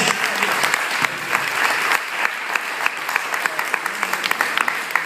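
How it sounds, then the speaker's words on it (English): Wedding guests applaud for Stephen during a best man speech, a lively round of clapping from a room full of people, loud and steady with crisp individual claps and some crowd voices mixed in. "Let's have a nice big round of applause for Stephen, you guys"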